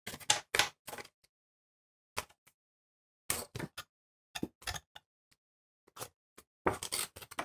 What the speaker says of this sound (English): So fold in the little triangles.